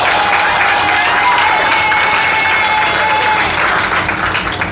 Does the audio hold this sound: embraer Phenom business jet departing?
no